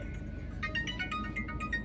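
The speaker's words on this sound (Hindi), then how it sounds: "एक सेकंड, कस्टमर का फोन आ रहा है।" A mobile phone rings with an incoming customer call in a taxi driver's car, a repeating electronic melody of short bright tones over a steady low background hum, with no talking.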